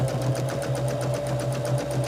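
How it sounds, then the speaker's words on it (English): A sewing machine stitches along a seam of a quilted bag, its motor humming in a steady fast rhythm of needle strokes, close and continuous without pause. "So we're just stitching very close to the seam line."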